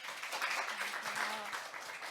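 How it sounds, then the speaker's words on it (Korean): Audience applause welcoming a student team's presentation at a data competition results event, a steady, moderate wash of clapping with faint voices mixed in, continuous for about two seconds. "큰 박수로 맞아주시기 바랍니다."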